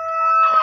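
An Ayam Cemani hen gives a single short, loud, close call, a tonal cluck rising slightly toward its end, heard alone.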